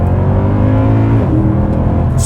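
A Mercedes-Benz W204 C63 with a 6.2 V8 and 7-speed gearbox, in sport mode, pulling hard at full throttle from about 40 mph, a loud, deep engine roar that climbs in pitch steadily, heard from inside the car.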